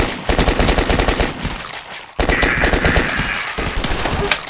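An M4A1 rifle fires in a video game in loud, rapid bursts of automatic gunfire, with a brief pause near the middle before another sustained volley.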